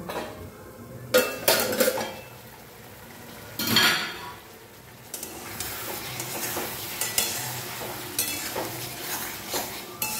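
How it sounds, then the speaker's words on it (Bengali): A lid clanks onto a cooking pot of old-style elephant foot yam curry, with a few sharp metallic knocks followed by a steady sizzling bubble underneath, close up, with no voices. "এবারে ঢাকা দিয়ে দেব"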